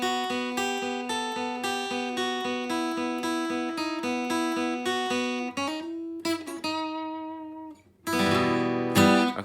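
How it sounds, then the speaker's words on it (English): Acoustic guitar plays a song's intro riff: a steady, rhythmic run of plucked notes with ringing overtones, ending in a louder strummed burst, close and clear with no talking. "I think one of the most iconic, different out there riffs ever on guitar. It sounds like this."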